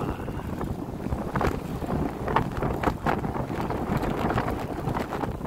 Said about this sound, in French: je me fais freiner par le vent